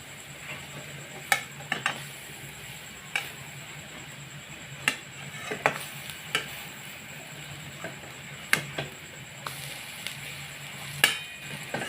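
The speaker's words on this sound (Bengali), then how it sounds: "এবারে এই পিঠটা আমি ভালো করে ভেজে নিচ্ছি" Banana pithe fritters frying in oil in a pan, a steady low sizzle broken by sharp clinks and scrapes of a utensil against the pan at irregular intervals, with no talking.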